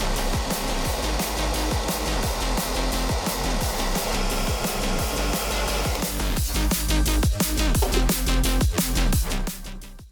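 A heat gun blows steadily while shrinking heat-shrink tubing over ring terminals during motorcycle kill-switch wiring, its constant airy whir running close throughout with light ticking and handling clicks.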